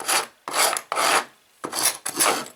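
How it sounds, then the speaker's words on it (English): A wooden staircase string edge is hand-sanded to clear away filler, with five close, rasping back-and-forth strokes separated by brief pauses and no voices. "you can sand this edge back here"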